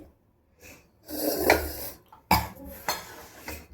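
Two knives scraping and clinking against each other in the middle of a large cooking pot, with short metallic clatters and scrapes that come in bursts with gaps between them.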